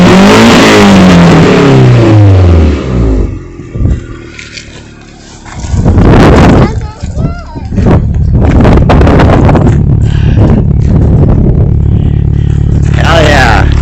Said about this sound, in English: Full fucking exhaust back on.